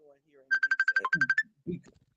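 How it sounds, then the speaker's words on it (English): A phone ringtone signals an incoming call as a quick run of about a dozen loud, evenly spaced electronic beeps, followed by a short voice sound and quiet. "Oh, she got a phone call"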